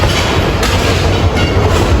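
The Rangpur Express passes through Santahar railway junction at night with a loud, dense, continuous roar and rattle of wagons on the rails, close by and without pause.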